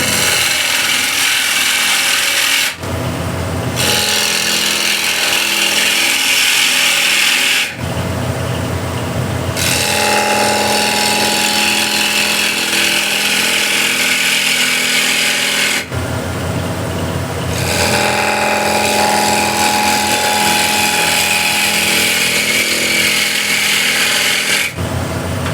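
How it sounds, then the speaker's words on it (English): A ball gouge cuts the inside curve of a walnut or cherry plate spinning on a wood lathe, producing a steady loud scraping hiss broken by a few brief pauses, with no talk. "Ball gouge to make the inside curve here."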